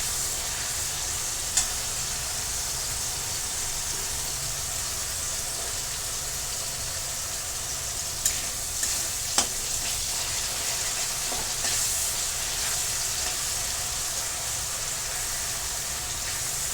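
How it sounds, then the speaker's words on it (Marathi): Wet masala paste frying in oil for stuffed bitter gourds, a steady, even hiss of sizzling with a few faint clicks and scrapes of a spoon, continuous and close, with no voices. "ते पहा आता मसाल्याला तेल सुटत आहे वाटपाला,"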